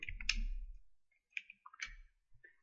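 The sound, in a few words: pressing the X key on a computer keyboard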